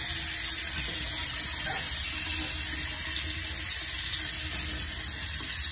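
Warm tap water runs steadily into a sink, a constant close hiss and splash with no breaks.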